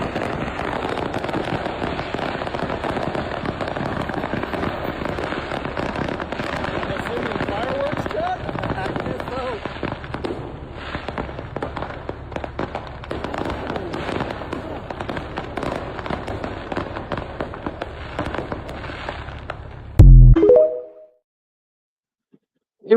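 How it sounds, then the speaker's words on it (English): Fireworks go off nonstop from a burning truck loaded with them in Tennessee, a dense run of crackles and pops lasting about twenty seconds before cutting out abruptly. "a truck full of fireworks actually caught on fire in Tennessee"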